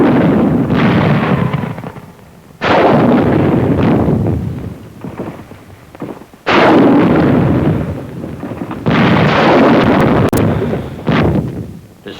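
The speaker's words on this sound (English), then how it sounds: "Bazookas fire on Jap tunnel positions at hill number 1." Wartime bazooka fire and explosions hit Japanese tunnel positions on a hillside, heard as four heavy blasts with long rumbling tails separated by brief lulls, loud and raw.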